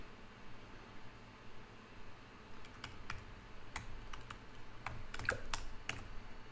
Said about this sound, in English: the clicking you can hear is because I'm using Vim and I'm not hitting escape in the right places